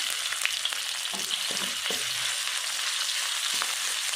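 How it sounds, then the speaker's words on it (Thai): Thai curry paste being stir-fried in a pan over very low heat for a fish dish, a dense steady sizzle up close with soft scraping and tapping of a spatula throughout. "ไฟอ่อนที่สุดเลยแล้วก็ผัดให้หอมเลยนะคะ"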